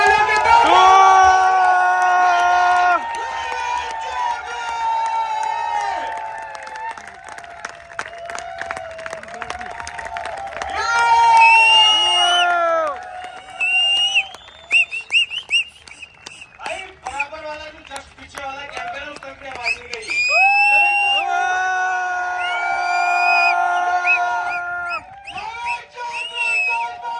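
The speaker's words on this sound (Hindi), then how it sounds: "स्टैंडिंग ओवेशन और जोरदार होटिंग और जोरदार तालियों के बीच" A large audience gives a standing ovation, with loud cheering, whoops and shouts alongside applause that surges in waves, while voices ring out over the crowd throughout.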